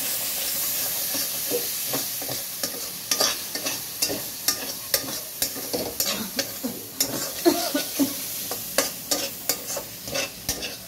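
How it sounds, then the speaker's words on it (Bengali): Soya chaap masala with Kashmiri chili is stirred over a low flame, a steady hissing sizzle broken by quick, rhythmic spatula scrapes that speed up in the second half, close and without speech. "কাশ্মীরি মির্চি দেবো, দিয়ে এটা আবার আঁচটা কমিয়ে দিয়ে নাড়তে থাকবো।"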